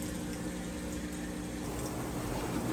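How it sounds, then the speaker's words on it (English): A Whirlpool washing machine drains soapy water after the wash cycle, giving a steady, even pump hum and rushing water flow that continues unbroken at close range. "I wanted you to hear the drain, that the drain's working nice and fast"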